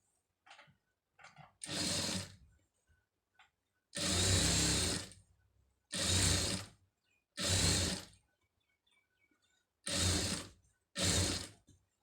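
A tailor's sewing machine stitches a silk border onto a neck design in repeated bursts of rapid mechanical whirring, each lasting about a second, separated by quiet pauses and small clicks.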